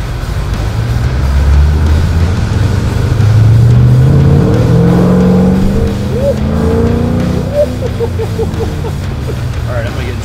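A Harley-Davidson motorcycle engine revs up loud and close, its pitch rising and falling through a few throttle pulls, with a steady rumble underneath and a voice talking over it.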